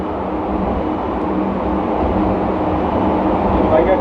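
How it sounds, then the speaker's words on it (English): Funicular train on Penang Hill riding uphill, a steady, loud low rumble of wheels and motor running throughout, close and continuous with no clear breaks. "You are now riding up the train, the funicular train."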